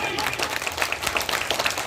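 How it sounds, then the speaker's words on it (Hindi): Applause and clapping from an audience at a Teacher's Day speech event, a dense, steady patter of many hands running through the whole short stretch at moderate loudness. "तालियां की गरजना है भाई।"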